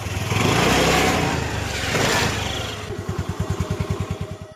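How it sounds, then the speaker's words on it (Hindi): A scooter engine roars and revs loudly nearby, then settles into a steady, rapid putter as the scooter is ridden off. "उसके बाद चुड़ैल स्कूटर लेती है और वहाँ से चला कर ले जाती है।"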